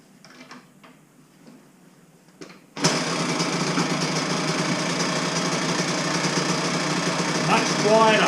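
A two-stroke dirt bike with a freshly repacked muffler starts suddenly after some quiet handling noises and then runs at a steady, close, buzzing idle.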